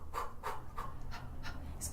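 Rhythmic panting as a breathing exercise for Parkinson's, about six quick, breathy huffs in a steady pattern, close and clear, with no talking.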